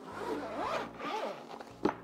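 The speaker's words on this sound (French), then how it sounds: "Mallette à fermeture éclair." Zipper on a reinforced carrying case for a portable Meco vacuum/blower being drawn open in a few long rasping pulls, close and fairly loud, ending with a short sharp tug.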